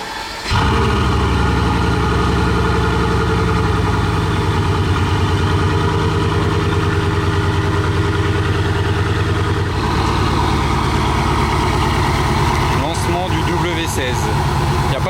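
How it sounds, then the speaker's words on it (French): A Bugatti Grand Sport Vitesse with a W16 engine idles loud and close on a cold start, a dense, steady mechanical drone that shifts slightly partway through, with clicks and a voice near the end. "Là elle est en cold start."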